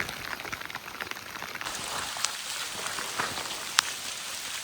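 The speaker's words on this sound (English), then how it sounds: "It's raining a lot, guys." Rain falling steadily on a tea estate trail, a dense close patter of drops with a few sharper splashes, no voices.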